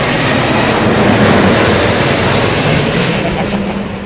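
An Airbus A350 airliner at London Heathrow Airport gives a loud, steady jet roar that stays close and even, then eases slightly toward the end. No one speaks.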